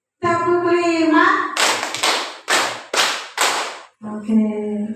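Class of students clapping hands in a counted rhythm, about five distinct bursts of overlapping claps in steady succession, close and loud, with a teacher's voice before and after.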